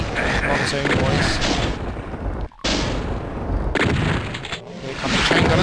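Chaingunners open fire in Doom TNT: Evilution, a dense, loud, continuous barrage of rapid shots that breaks off twice for a split second before resuming, with a voice talking faintly underneath.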